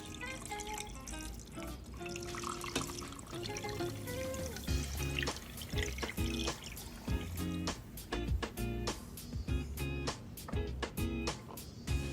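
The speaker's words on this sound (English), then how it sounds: "Next, add 1 quart of water." Water pours steadily into an Instant Pot, with bubbling, splashing and clinking knocks as it fills; no talking.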